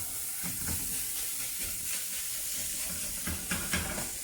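Pâté gets stirred into mushrooms in a frying pan for a duck Wellington filling, a quiet continuous sizzle with soft stirring scrapes throughout and a couple of slightly louder bursts toward the end.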